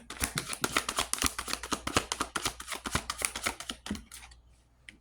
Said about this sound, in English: I was shuffling your cards